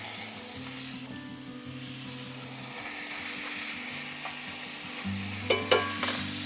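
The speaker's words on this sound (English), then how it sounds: "Go in with our spring onions." Spring onions sizzle steadily in a pot over a camp stove for a gochujang chicken and rice meal, a continuous frying hiss with a few sharp utensil clatters near the end.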